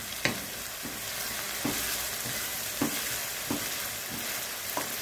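Onion frying in a pan for an Egyptian omelette, a steady broadband sizzle with occasional stirring clatters, close and continuous with no talking.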